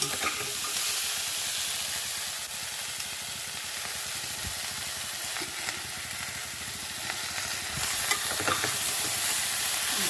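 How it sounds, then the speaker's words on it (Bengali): Continuous loud sizzling of drumstick pods frying in a pan, with occasional scrapes and clinks of stirring and no voices. "সজনে ডাঁটাটা দিয়েও একটু ভাজবো"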